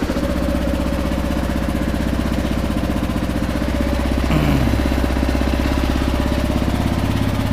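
A 2009 Kawasaki KLR650 single-cylinder motorcycle idles steadily up close after a choked start, a low even engine rumble running the whole time with a brief rise in revs partway through.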